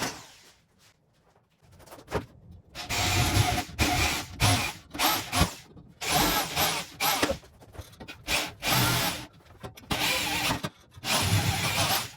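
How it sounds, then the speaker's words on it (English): A power drill whirs in repeated short bursts, drilling holes in wood, starting and stopping several times, close and fairly loud, with brief quiet gaps between holes. "Now we need to drill holes where I'm going to be putting the screws to attach the top and bottom."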